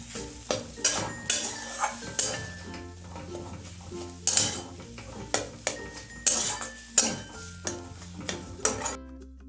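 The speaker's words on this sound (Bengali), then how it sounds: "এরপর কিন্তু ভালো করে এখানে আলুটা মশলার সঙ্গে মিক্স করতে হবে।" A spatula works boiled, mashed potato into spices in a pan for potato chops, making rhythmic scraping strokes and dull metallic knocks that repeat up close.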